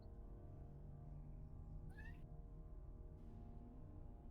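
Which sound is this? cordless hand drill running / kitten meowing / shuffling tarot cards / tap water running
kitten meowing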